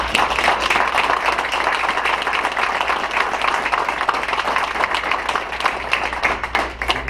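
Council meeting audience in a city hall chamber applauding a firefighter about to deploy, a loud, steady patter of many hands clapping close by, continuous from start to finish.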